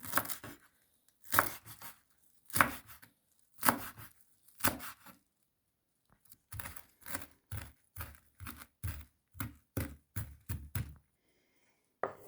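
A knife chops a small bunch of dill and parsley finely on a board for a spicy cucumber salad. Short bursts of crisp, close cuts come first, then a brief pause and a quicker, steady run of chops, with no talking.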